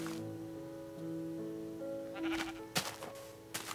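Sheep in a video game bleat repeatedly over a soft tonal music bed, with sharp punching hits breaking in toward the end; the bleats sound close and fairly loud.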